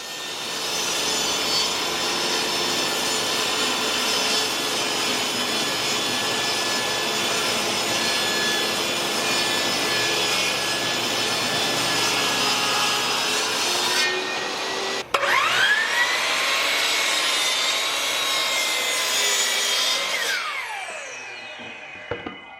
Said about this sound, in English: we're starting off at the miter saw and the table saw to get these pieces ripped down and cut to size